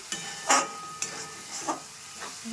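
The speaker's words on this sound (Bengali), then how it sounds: "এবার এটাকে ভালো করে কষিয়ে নেব মশলাটা আমি কিছুক্ষণ কষিয়ে নিয়েছি" Masala spice paste for prawn curry sizzling in oil as it is stirred in a pan, a continuous frying hiss broken by several sharp scraping bursts at irregular intervals, close and fairly loud.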